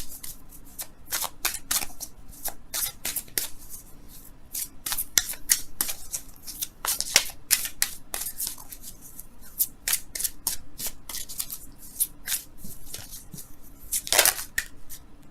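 Romance angels oracle cards shuffled by hand, a dense continuous run of crisp riffling flicks and slaps up close for the whole stretch, with no voices.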